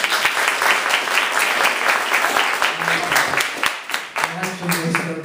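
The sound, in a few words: audience applause at stand-up show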